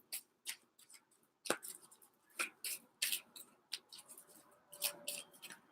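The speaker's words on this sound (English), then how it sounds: "Quick shuffle." A deck of cards given a quick shuffle, with a series of short, crisp riffling and flicking bursts, close and quiet, arriving in an uneven rhythm over several seconds.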